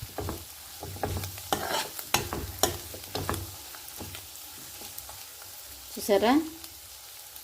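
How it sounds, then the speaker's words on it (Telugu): Prawns and cashews roasting in ghee with curry leaves and coriander: repeated scraping and clattering as they are stirred in the pan over a low sizzle, close by, with someone speaking briefly. "జీడిపప్పుతో సమానంగా పచ్చిరొయ్యలు కూడా చక్కగా రోస్ట్ అయిపోయినాయి"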